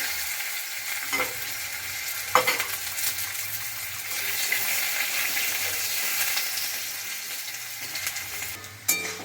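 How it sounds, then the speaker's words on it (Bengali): Continuous hissing sizzle of potato pieces frying in oil until reddish-brown, with a few sharp metallic clinks of a spatula against the pan. "একটু লাল লাল করে আমি আলুটা ভেজে নেব।"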